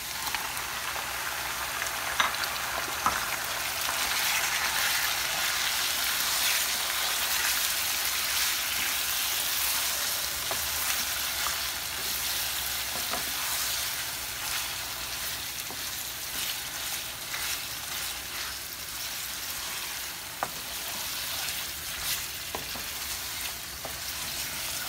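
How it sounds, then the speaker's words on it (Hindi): Goat ribs fry in a hot pan with a steady, dense sizzle and crackle that runs throughout, with occasional sharper pops and faint stirring, no talking. "रिब्स को 1-2 मिनट फ्राई करेंगे।"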